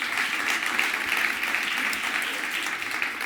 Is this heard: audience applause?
yes